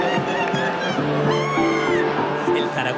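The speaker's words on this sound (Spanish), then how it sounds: "Este grito te despierta del sueño." Fans at a Deportivo football match roar and scream together after a saved penalty, a dense, loud, sustained crowd cry with overlapping shouting voices.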